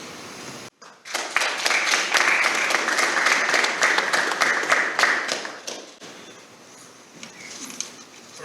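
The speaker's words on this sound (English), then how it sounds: "First time I've received applause in probably 10 years, but thank you." An audience at a men's basketball press conference breaks into applause after a brief pause, with crisp, dense clapping that holds steady for several seconds and then tapers off to a quieter room.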